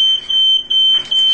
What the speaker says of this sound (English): There goes the fire alarm again.